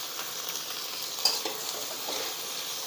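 Onion and tomato sautéing in a pan for a quick dal-onion dish, stirred steadily; a soft continuous sizzle and scraping runs throughout, with one brief utensil clink near the middle and no talking.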